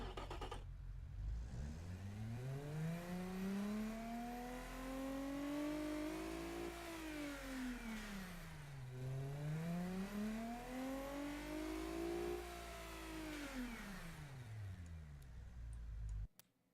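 A twin-turbo car engine in a driving game revs up and down in long sweeping rises and falls, loud and continuous, with a synthetic game-like tone.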